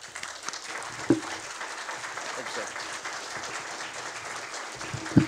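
Audience applause welcoming Congressman Jim Jordan at a policy event, a steady moderate clapping wash lasting throughout with a couple of louder knocks.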